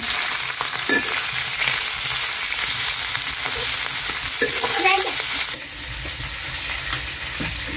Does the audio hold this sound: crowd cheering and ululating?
no